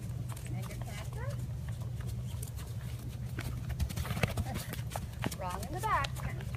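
Horse cantering in an arena during a riding lesson, steady rhythmic clip-clop of hooves over a low hum, with an instructor talking throughout.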